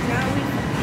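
A train rumbles steadily from the inside, a dense rolling roar of wheels and car noise with murmuring voices mixed underneath.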